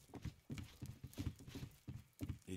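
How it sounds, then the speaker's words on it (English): Heavy stomping footsteps upstairs in Oblivion, a steady run of muffled thuds about twice per second, hollow and faint as if heard through a floor. "I hear stomping upstairs."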